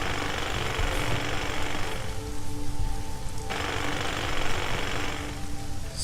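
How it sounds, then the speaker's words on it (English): Steady rain hisses in the SimCity Societies video game, a dense, even patter that briefly thins and then swells back. "it's starting to rain."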